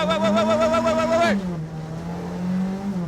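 Peugeot 205 Turbo 16 rally car with a loud, close harmonic engine note that holds steady, then drops sharply as the throttle lifts, followed by a turbo whoosh and a lower engine hum as it keeps running.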